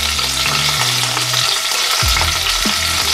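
Olives and capers frying in hot oil in a pan, a loud, close, continuous sizzle and crackle with stirring, no voices.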